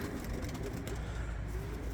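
Pigeons cooing in a bird keeper's loft, soft low repeated coos sitting close under a constant background hum, no talking over them.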